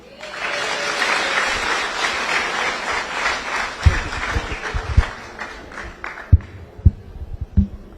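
Crowd applause at a burial ceremony in Murang'a, Kenya, a dense burst of clapping that thins into scattered, rhythmic claps near the end.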